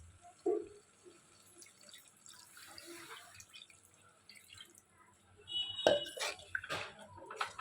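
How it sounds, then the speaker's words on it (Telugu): Water poured into a pot of spiced mutton curry, soft splashing and trickling that grows louder near the end, with faint kitchen knocks and a brief voice in the background. "ఇప్పుడు దీనికి సరిపడగా వాటర్ వేసుకుందాం"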